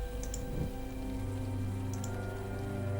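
Rain falls steadily in the video game Grim Legends, a constant soft hiss of drops on surfaces layered over a low ambient musical drone, with no voices.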